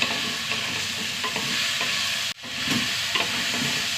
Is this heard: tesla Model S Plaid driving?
no